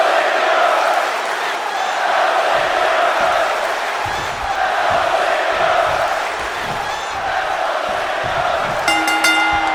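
A large crowd in the WWE 2K22 video game roars and chants continuously for Dolph Ziggler, a loud sustained wall of cheering with rhythmic swells, and a brief electronic tone near the end.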